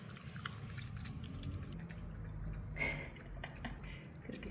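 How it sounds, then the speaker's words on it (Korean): A dog named Bani laps water from a bowl, giving soft, wet, irregular slurps and drips close by at low volume, with faint background rustle. "반이 물 마시자"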